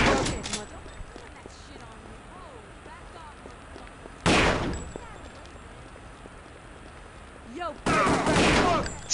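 Gunfire in the video game Kingpin, with three loud, sharp bursts of shots spread across the stretch over a steady background of game ambience, the last burst lasting longer.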